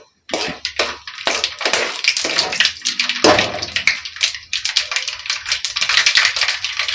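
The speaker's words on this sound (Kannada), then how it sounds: "ಚಟಪಟ ಅಂತ ಇದೆ" Mustard seeds crackle and pop loudly in hot cold-pressed peanut oil, giving dense, close, rapid spattering bursts that continue throughout without any talking.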